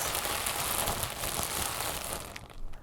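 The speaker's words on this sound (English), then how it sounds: "Some light crinkle sounds." Light crinkling of paper handled close to the microphone, a steady, dense stream of soft crackles and rustles that eases off near the end, with no voice.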